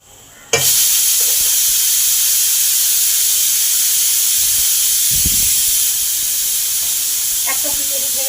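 A pressure cooker on a gas stove vents steam while khichuri cooks. After a sharp onset the hiss is loud, continuous and close, and it eases slightly toward the end with faint clinks in the background.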